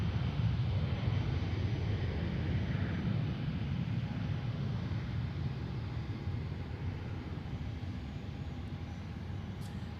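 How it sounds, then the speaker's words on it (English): A private jet takes off down the runway at Boeing Field, its engines holding a steady, broad roar throughout, loud and fairly near with no voices. "They are jetting down that runway."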